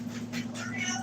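Pet cat meowing in a short, drawn-out cry heard close in an indoor room over a low steady hum.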